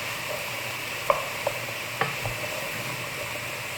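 Quinoa sautéed with carrot and zucchini sizzles quietly in a pan, with a few distinct scrapes and taps of the spoon as it is stirred, no voices.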